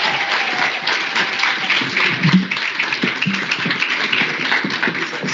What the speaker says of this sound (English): Please give them an even louder round of applause as they exit the stage